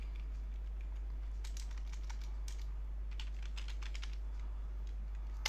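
Keystrokes on a computer keyboard entering a systemctl command to enable HTTPD on a CentOS 7 VPS, a fast irregular run of close, crisp clicks over a steady low electrical hum, with no talking.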